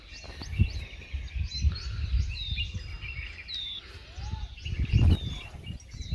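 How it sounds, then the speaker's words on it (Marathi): Village birds chirping in the morning, with scattered high calls and whistles over a low rumbling background, fairly distant and moderate in level. "पक्ष्यांचा किलबिलाट सकाळ सकाळचा."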